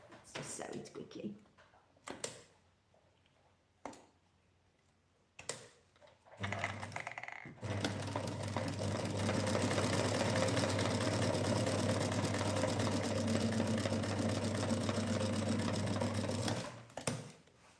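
Sewing in the video game The Seamstress at the Cottage, with a few short clicks and taps, then a loud, steady mechanical whir lasting about nine seconds before it stops abruptly.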